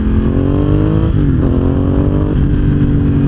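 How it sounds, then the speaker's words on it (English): Ducati Hypermotard 1100 EVO SP motard with an 1100cc engine, a loud, steady close-up rumble that holds a constant pitch and briefly dips and recovers, with no talking. "a Motard with an 1100cc engine that makes 78 foot-pounds of torque"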